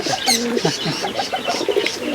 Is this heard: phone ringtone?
no